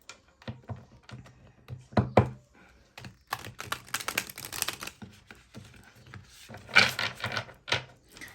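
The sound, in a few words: drawing tarot cards from a deck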